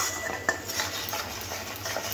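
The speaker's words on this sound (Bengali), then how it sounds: "দেখুন মশলাটা এরকম কষে নিতে হবে।" A metal spoon scrapes and stirs spice masala frying in a pan for a Bengali prawn and potato curry, a steady soft scraping with faint sizzle, close and quiet, no talk.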